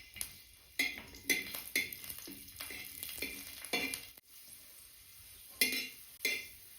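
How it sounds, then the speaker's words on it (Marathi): Garlic frying in oil in a pan, a soft sizzle broken by repeated spoon scrapes and clinks as it is stirred, fairly quiet and close. "लसूण तेलामध्ये तळून घेऊ आपण."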